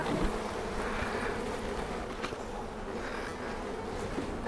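Wild-caught honey bees drone steadily around an opened, propolized hive, a dense close buzz holding at an even level throughout with no talk.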